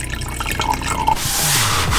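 Wine poured into a glass in a camper van, a fluid gurgling pour running for about a second and rising slightly in pitch as the glass fills, heard close with no talking.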